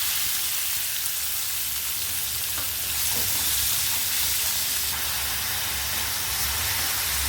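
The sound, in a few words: chopped onions frying in oil with fennel seeds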